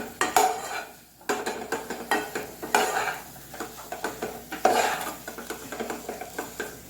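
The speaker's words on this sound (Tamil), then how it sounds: "கரம் மசாலா, தனியாத்தூள், மிளகாத்தூள் இதெல்லாம் போட்டுட்டு ஒரு பெரட்டிட்டு" A spoon stirs garam masala, coriander powder and chili powder in a metal pan with repeated scraping and clinking strokes over a light sizzle, close and rhythmic, with no speech.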